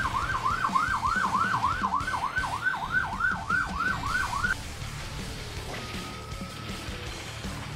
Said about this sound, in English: you probably guys heard the sirens before I decided to mute the mic